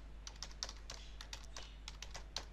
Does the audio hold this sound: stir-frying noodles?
no